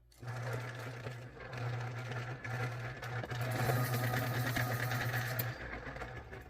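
A pencil sharpener works on a coloring pencil, giving a steady, close buzzing whir that runs for about five seconds with a few short breaks, then cuts off.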